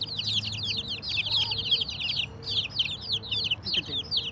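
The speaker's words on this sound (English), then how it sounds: "See how she feed her chicks?" On an organic chicken farm, a hen feeding her chicks clucks softly under a dense stream of high, rapid chick peeping, close and continuous.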